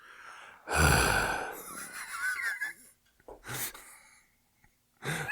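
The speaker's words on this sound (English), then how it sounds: "Heavily breathing." Heavy, exaggerated breaths are blown onto electronics in a few bursts: a loud gasping rush, then wheezy raspy exhales and a couple of shorter puffs separated by pauses, close to the microphone.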